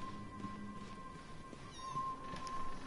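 A kitten mews softly a few times, faint and somewhat distant over a low steady background hum, with no talking.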